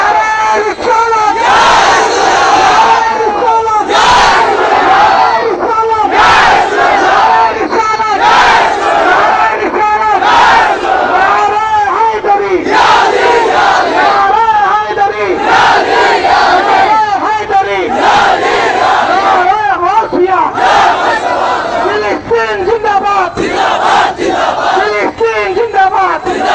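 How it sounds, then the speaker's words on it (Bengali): At a Palestine solidarity rally in Comilla, a large crowd shouts the Naraye Risalat religious slogan in loud, repeated chants, voices surging together continuously. "আমরা সবাই একসাথে নারায় রিসালাতের স্লোগান দিয়ে এই এলাকাকে প্রকম্পিত করব"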